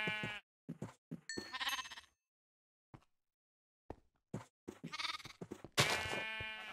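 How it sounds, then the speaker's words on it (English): Several Minecraft sheep bleat in short bursts with brief silences between, close and clear, one long wavering bleat near the end. "I found some sheep, started breeding them already."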